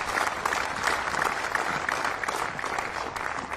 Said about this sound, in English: Have another big round of applause for Omar and JP here at the men's singles final.